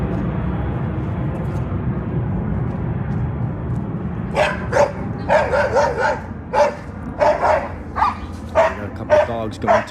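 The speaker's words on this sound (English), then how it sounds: "Dogs going toe to toe." Dogs bark at each other on a city neighborhood street, with a run of sharp, loud barks and yips in the second half after a stretch of traffic and street noise.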